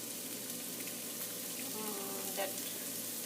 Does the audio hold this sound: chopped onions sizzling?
yes